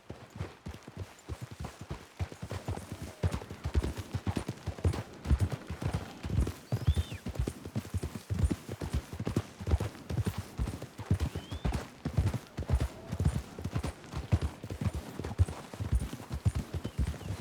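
Horse hooves clip-clopping at a steady walking pace on a trail in Red Dead Redemption 2, several animals close together, continuous and even with faint ambient background.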